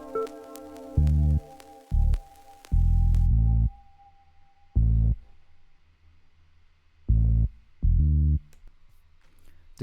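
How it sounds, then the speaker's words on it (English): A deep, dark R&B synth bass preset plays short punchy notes in a sparse rhythm, with gaps of near silence between phrases and a brief higher synth tone early on. "This preset is the dark R&B bass, really good."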